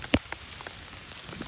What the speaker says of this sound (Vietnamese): trời thì đang mưa